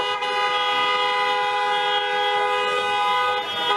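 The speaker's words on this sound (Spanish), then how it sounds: "esto tiene pinta de ser un casamiento, varios autos, tocando bocina, con la baliza prendida" Car horns of a wedding convoy honking in a Berlin street, one loud sustained blare held for nearly four seconds with no talking over it.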